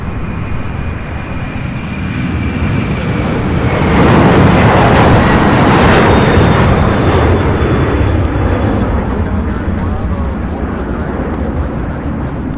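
McDonnell Douglas MD-11 cargo jet taxiing out of a ramp at Louisville's UPS Worldport, a loud, continuous jet engine roar that swells toward the middle and eases slightly, heard from nearby outdoors with no talk over it.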